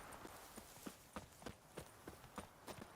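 Hooves of the horse in The Witcher 3: Wild Hunt beat a soft, steady clip-clop of repeated footfalls. Quiet and even in pace, with no talking.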